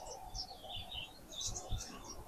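A bird market in Kuwait full of caged birds, their soft high chirps and twitters overlapping continuously at low volume above a dull ambient hum.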